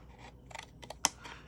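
Scissors trim a scored paper card for a small treat box, giving a few quick snips that end in one sharp, crisp cut, close and alone in a quiet room.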